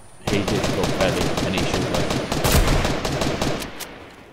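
Rapid, continuous gunfire in a Fortnite match, loud sustained automatic shots with sharp repeated cracks filling the whole stretch, nearly unbroken from start to finish with no talking over it.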